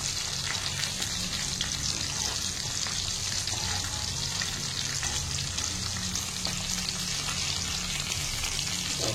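Pieces of hilsa fish frying in oil in a pan for Bengali mustard hilsa, a steady close sizzle with occasional crackles running throughout, no voices.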